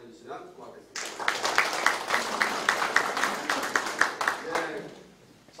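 An indoor audience at a farming education session breaks into sustained applause, a dense spread of many hands clapping steadily for several seconds before tapering off.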